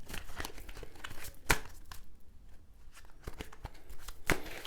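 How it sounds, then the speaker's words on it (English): Tarot cards being shuffled by hand, crisp papery riffles and crinkly bursts close by with sharp louder snaps, no talk. "I'm just going to shuffle these tarot cards."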